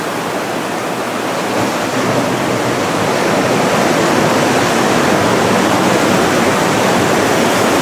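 Ocean swells and surf along the Big Island of Hawaii coast, a loud, dense, unbroken roar of breaking water that stays steady throughout with no voices.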